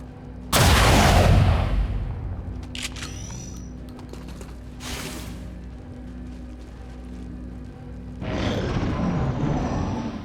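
Soldiers open fire on an alien relay in XCOM 2, a heavy booming gunshot up front followed by scattered sharper shots and mechanical clatter, then a second sustained burst of fire near the end.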